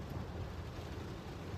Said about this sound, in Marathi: पाऊस पण खूप जोरात आलाय.